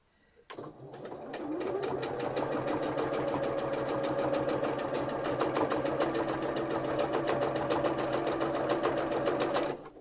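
A domestic sewing machine runs steadily for free-motion embroidery on hand-painted fabric, needle down: a close, even, rapid mechanical whir of stitching that starts abruptly and stops just before the end, with no talking.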